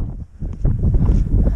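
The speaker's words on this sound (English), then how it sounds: "But it's so windy." Strong wind buffets the microphone in a loud, continuous low roar that gusts slightly stronger partway through.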